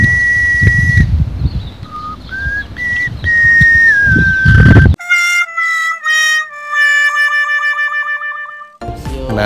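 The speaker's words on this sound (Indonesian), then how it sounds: "ini mobil sudah bisa bersiul." A Mitsubishi Xpander fitted with an aftermarket turbo gives a steady, loud, high turbo whistle that shifts pitch over engine rumble. It then cuts to a warbling, wavering whistle tone with little background.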